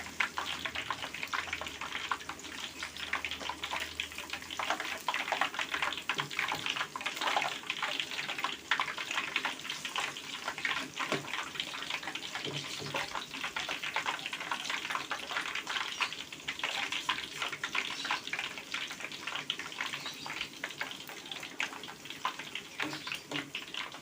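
Black soybean peyek crackers frying in hot oil, a dense continuous sizzle and bubbling crackle that stays steady and close throughout.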